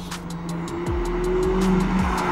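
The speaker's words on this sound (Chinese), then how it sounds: "我刚刚听到轮胎在叫" A McLaren 570S brakes hard on a racetrack, its tires squealing in a thin sustained whine while the engine blips through quick downshifts, loud and close from inside the car.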